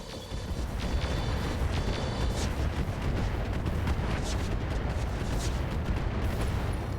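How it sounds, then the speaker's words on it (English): Missile salvos and laser weapons firing in the mech combat video game RogueTech, a dense, continuous barrage of booming blasts and crackling bursts that runs loud and unbroken for the whole stretch, with no talk. "we're going to go ahead and fire the MRMs at this point"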